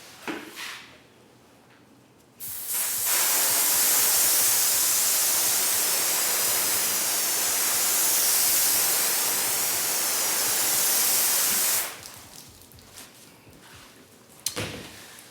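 A loud, steady hiss of water sprayed onto a car coated with ceramic graphene paste wax runs for about nine seconds, starting and stopping abruptly, with quieter handling noises before and after.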